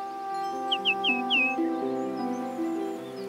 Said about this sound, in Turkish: Bir bülbül.